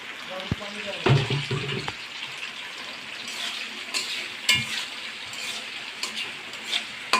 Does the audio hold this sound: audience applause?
no